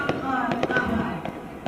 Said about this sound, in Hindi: आतिशबाजी यहाँ की जा रही है